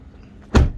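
A 2023 Lexus NX450h+ car door being operated gives one short, loud thunk that fades quickly after a moment of quiet.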